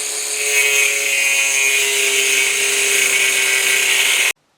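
A power tool slicing through a metal threaded rod during LS engine swap work, giving a loud, steady high-pitched whine with a sustained tone that holds for about four seconds, then stops abruptly.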